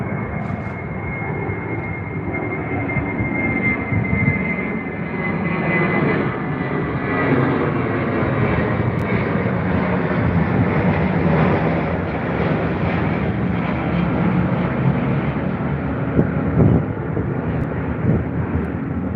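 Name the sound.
airliner jet engines roaring at Heathrow airport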